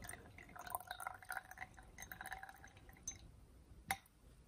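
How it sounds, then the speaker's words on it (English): Distilled water poured from a glass beaker during gold refining, heard as faint trickling and dripping with light glassy clinks, closing on one sharper clink near the end. "I just rinse my beaker out with distilled water and pour it into here."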